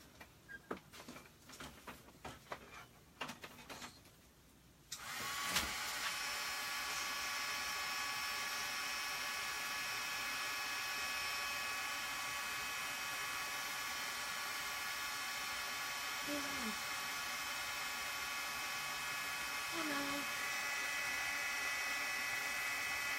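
Heat gun blasts a steady, loud stream of hot air onto a puffy-paint winter woodland craft piece, a continuous broadband whoosh that starts abruptly after a few seconds of small handling clicks and holds alone to the end.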